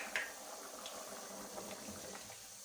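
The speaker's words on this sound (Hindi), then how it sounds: "एक बॉयल आने तक हमें पकाना है।" Water heats toward a boil in a cooking pot for veg pulao, a faint, steady bubbling hiss with a few soft pops and no talking.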